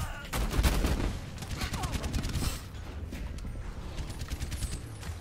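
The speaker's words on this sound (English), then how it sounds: "I'm being shot" Rapid bursts of gunfire from the Overwatch game, dense and loud for the first two and a half seconds, then thinning into scattered shots under steady game noise and some speech.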